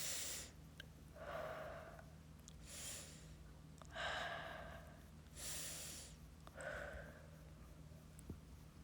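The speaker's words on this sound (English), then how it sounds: "we're going to start breathing in through our nose and out through our mouth 3 times." Three slow breathing cycles, each a soft inhale through the nose followed by a longer, breathy exhale through the mouth, close and quiet in an otherwise still room.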